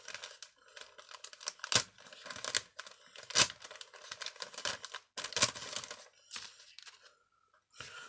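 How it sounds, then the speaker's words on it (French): A mail package is opened slowly by hand, giving close, quiet bursts of crinkling and tearing paper with brief sharp snaps and short gaps between them. "Je veux rien abîmer, donc on va ouvrir délicatement."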